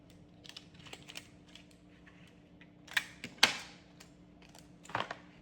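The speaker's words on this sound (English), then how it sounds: "let's take some double-sided tape and put on there" Double-sided tape is handled and pressed onto a gift basket, giving faint scattered crackles and sharp peeling snaps close by, with a few louder bursts near the end.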